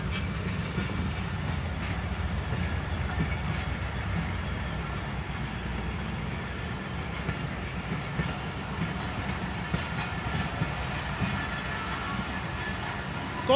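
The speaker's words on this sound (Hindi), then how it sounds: "ये अल्लामा इकबाल एक्सप्रेस है जो जा रही है सिटी स्टेशन से, ये जा रही है पंजाब के लिए।" Allama Iqbal Express passenger train running past at Drigroad junction in Karachi, a loud continuous rumble with steady clickety-clack of coaches over rail joints, close and unbroken for the whole stretch.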